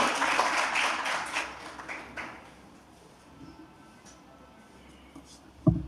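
An audience at a community event applauds to welcome the chief guest, Mrs. Alka Garg, with loud clapping at the start that fades within a couple of seconds into a quiet room, ending with a sharp thump.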